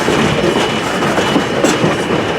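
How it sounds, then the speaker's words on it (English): Virginia and Truckee No.29 locomotive hauling Pullman cars, a steady close rumble of rolling wagons with rhythmic clickety-clack of wheels over rail joints and faint squeals throughout. "The Pullman cars you see here and the engine that's pulling you"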